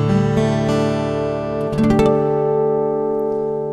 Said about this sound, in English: DADGAD tuning. It sounds like this.